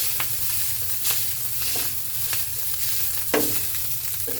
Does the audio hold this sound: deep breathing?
no